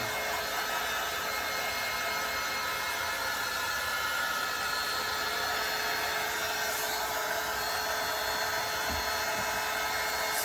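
A handheld heat tool blows hot air over wet chalk paste on fabric, a steady close whirring hiss that holds unchanged throughout with no other sounds.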